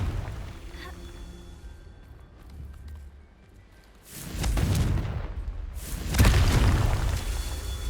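Two heavy booms from the Confringo explosion spell in Hogwarts Legacy go off about two seconds apart, loud and rumbling, after a quieter stretch of game ambience.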